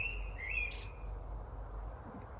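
A small bird gives a few quick, high chirps in the first second or so over a soft, steady outdoor background, then falls quiet.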